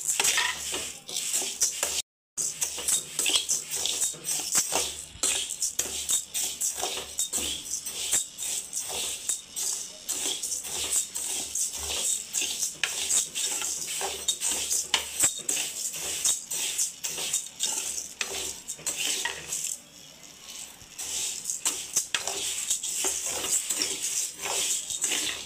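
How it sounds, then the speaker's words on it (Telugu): Rice roasting in a pan and being stirred to make chekkalu gives a steady dense sizzle with frequent scraping and clinking strokes, continuous and close throughout, with no talking. "మా ఆంటీకి చెక్లాలు కావాలనేసి ఫస్ట్ బియ్యం వేంపుతుంది ఫ్రెండ్స్."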